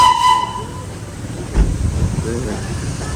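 The narrow-gauge Darjeeling toy train rumbles nearby at Darjeeling station in India, with a high whistle at the start and a clank partway through, while a person talks over the noise.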